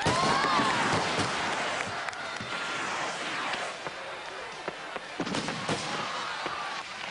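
Fireworks burst in a string of sharp bangs and crackles at irregular intervals, with crowd noise and voices mixed in beneath.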